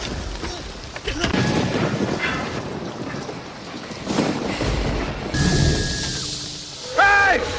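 Film thunderstorm scene with steady rushing rain and wind noise, deep rumbling swells of thunder, and brief shrill tonal cries near the end; no music.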